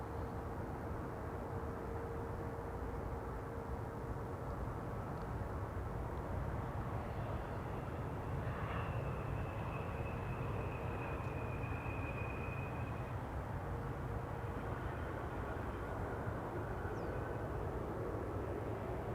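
An airplane taxis at Amsterdam Schiphol Airport after landing, producing a steady distant engine rumble and whine held at an even level throughout, with a thin high tone rising midway.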